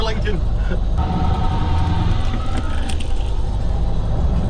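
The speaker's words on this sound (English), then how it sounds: "changes gear really good as well." Continuous loud engine rumble from a V8-powered Volvo on the move, with a rough, dense drone and brief shifts in tone as it changes gear, while people talk over it.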